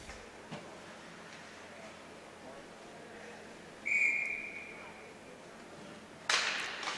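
A referee's whistle blows once, a short bright tone at an ice hockey game, rising over the faint rink hum of a youth U15 match, then a sharp clatter follows near the end.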